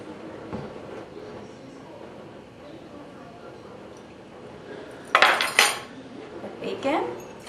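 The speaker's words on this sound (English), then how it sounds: "combine all the ingredients except for the flours, just combining well" Homemade dog treat ingredients such as honey are stirred together in a bowl, giving soft scraping with a few sharp metallic clinks of a utensil against the dish, while a person talks.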